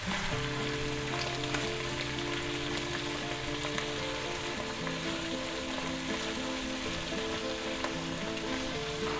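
Mushrooms and onions sauté in a pan with a steady, close, rain-like sizzle that holds even throughout, with no one talking.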